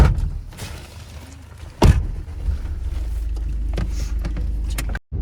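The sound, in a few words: riding in a cab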